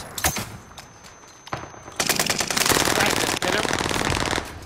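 Gunfire in Call of Duty Warzone on Rebirth Island: a couple of sharp shots early, then a sustained loud burst of rapid automatic fire lasting a few seconds.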